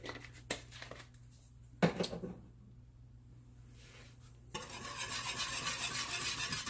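Homemade macaroni and cheese sauce with parsley is stirred in a pot: scattered knocks and scrapes of the spoon give way to a steady, close, thick swishing churn in the last few seconds, with no voices.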